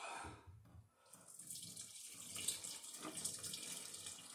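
Dissolved sugar syrup, 13.5 cups of it, is poured over strawberries into a plastic carboy for homemade strawberry wine, giving a continuous splashing, gurgling stream of liquid that swells after a brief pause and runs to the end.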